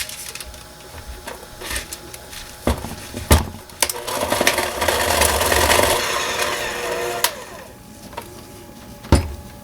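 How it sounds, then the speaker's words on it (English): Shea butter with lavender essential oil being whipped by an electric mixer into body butter: a busy, rattling motor whir swells for several seconds, framed by knocks and clunks of the beaters against the bowl. "so I'm going to take my mixer and mix this up"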